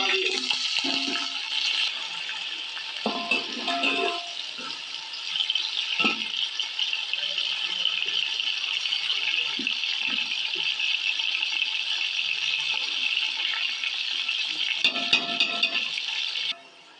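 Onions frying in hot oil in a pan for chicken pulao give a continuous bright sizzle and crackle, with occasional stirring clatters and scrapes breaking through now and then.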